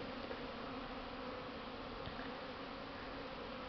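Honeybees on a strong spring cleansing flight buzz in a steady, dense drone close around the hive, the hum holding evenly throughout with no talking.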